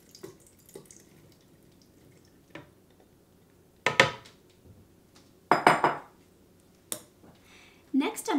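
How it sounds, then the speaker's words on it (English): Thawed, drained frozen berries being put into a blender jar in a kitchen, a few sharp clattering knocks and scrapes of fruit and utensil against the container, with quiet pauses between them. "first I'll go ahead and put some of my thawed and drained frozen berries into the blender"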